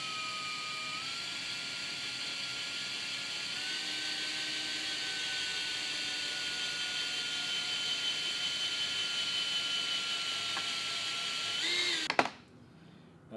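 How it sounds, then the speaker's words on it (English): A power drill boring holes through motorcycle bolt heads for safety wire, a loud steady high-pitched whine holding for about twelve seconds before abruptly cutting off. "Now that our bolts are drilled"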